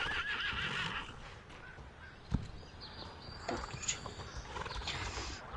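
A Hanoverian horse whinnies faintly and at a distance, half buried in continuous broadband background noise, with a few brief knocks.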